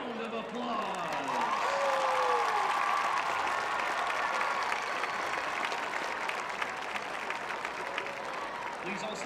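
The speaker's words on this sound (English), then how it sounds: "Let's give all of our Grizzlies a final round of applause." Audience at a Chavez High School event at Grand Oaks High School gives a sustained round of applause, dense steady clapping mixed with crowd noise and some cheering, loud and continuous throughout.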